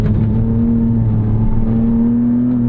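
A 2006 Porsche Cayman S with its mid-mounted engine accelerates, giving a loud, steady droning engine note with strong low harmonics that rise slightly in pitch, close to the mic and without talk.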